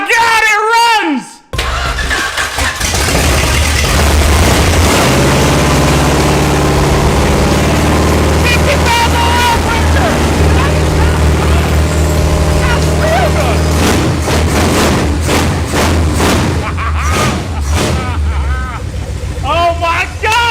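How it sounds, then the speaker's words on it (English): The restored Dodge Charger engine, newly revived after sitting abandoned for 35 years, idles steadily and loudly with a rough low rumble after starting, while excited voices talk over it. "It runs good, it idles, it runs smooth, it's not knocking"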